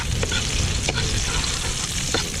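Onions frying in a hot pan, a steady dense sizzle filling the whole stretch with a few brief stirring scrapes and clinks, close and fairly loud.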